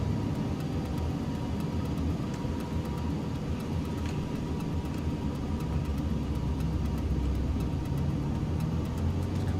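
A Piper PA-28R Turbo in Microsoft Flight Simulator drones with a steady, even engine rumble that holds constant throughout, without voices.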